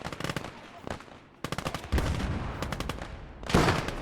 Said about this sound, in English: Sounds like our Panzer III is engaging